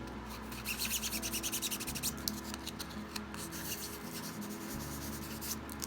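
Light hand sanding with 320-grit sandpaper scuffs the sides of a control box, a close, quiet rhythmic rasp of back-and-forth strokes.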